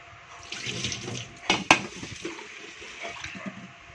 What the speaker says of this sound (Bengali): মাছ ধোয়া আরম্ভ করেও দিয়েছেন, জল সরানোর জন্য এই ছাঁকনিতে ছেঁকে দিচ্ছে।